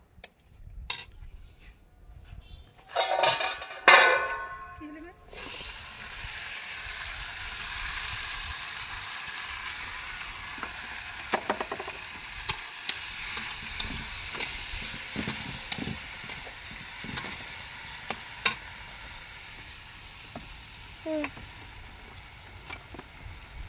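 Food sizzling and frying in a pan at an outdoor New Year picnic, with utensils clattering and scraping against the pot, a burst of louder clatter early on, then steady sizzle with sharp ticks throughout.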